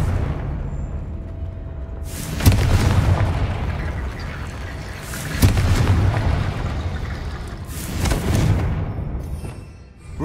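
Confringo fire spell blasts in the video game Hogwarts Legacy, three sharp booming explosions spaced a few seconds apart, each with a rumbling decay over quiet game ambience.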